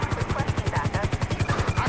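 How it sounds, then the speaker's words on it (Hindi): A police helicopter in the video game GTA V closes in, its rotor beating fast and steady in a loud pulsing chop. "और इस सामने की साइड से दूसरा हेलीकॉप्टर आ चुका है"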